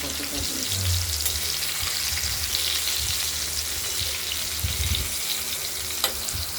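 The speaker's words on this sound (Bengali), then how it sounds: "বেগুনগুলোকে একটু হালকা ভেজে নেবো আমরা" Eggplant pieces frying lightly in oil in a pan, a steady close sizzle with occasional stirring and low clattering bumps, going on evenly throughout with no talk.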